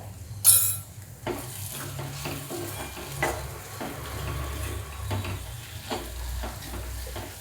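Chana dal sautéed with goda masala in a pan, close by: a steady sizzle of frying under repeated scraping stirs of a spoon against the pan, with no talking.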